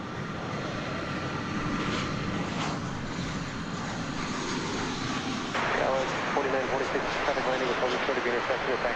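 An American Airlines Boeing 737-800 arriving at DFW airport gives a broad, distant jet roar that holds steady and grows slightly louder toward the end.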